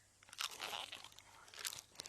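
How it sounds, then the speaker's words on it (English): Crunching and munching from a buffalo eating in an Indigenous folk story, a series of close, crisp crunches in quick uneven bursts with no talk over them. "With a loud crunch, munch, crunch, Buffalo began to eat."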